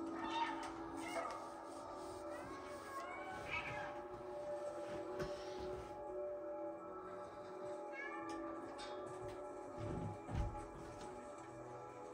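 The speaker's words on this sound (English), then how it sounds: "Press circle, you stop meowing." A cat meows repeatedly in the video game Stray on PS5, over a murmur of background sound and music-like tones, the cries short and moderately loud.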